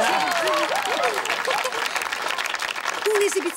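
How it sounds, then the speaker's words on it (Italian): An audience applauds after a song performance, dense clapping that holds steady throughout while a person talks over it. "Un bel applauso per Lorenz, se lo merita!"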